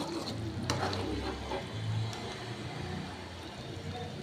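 Thick Tamil-style cowpea and bitter gourd kara kuzhambu curry bubbling and sizzling in a pan while a spoon stirs it, steady and close with occasional scraping; no voices.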